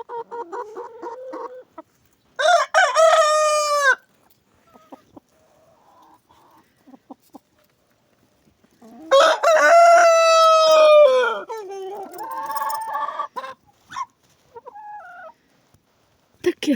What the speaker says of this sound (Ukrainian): співучі півні і кури